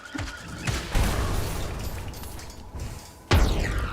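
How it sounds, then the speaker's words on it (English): Two loud, booming explosions go off in the Hollow Knight video game, the first bursting out near the start and a second sharp blast following about two seconds later, each trailing into a rumbling decay. "That's a double explosion."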